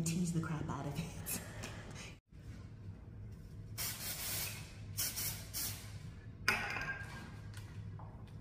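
Several bursts of hissing hairspray sprayed onto hair, some short and some longer, with a person talking between and over them.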